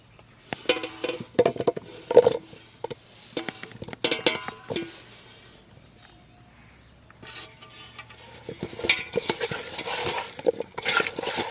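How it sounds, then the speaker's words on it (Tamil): Mutton marinated in ginger-garlic paste being stirred into a pan, with repeated clattering scrapes and clinks of a utensil in bursts, a quiet pause midway, then more stirring. "கால் மணி நேரம் இஞ்சி பூண்டு பேஸ்ட்டில் ஊறின கறியை வந்து இதுக்குள்ளே போட்டு மிக்ஸ் பண்ணிடுவோம்"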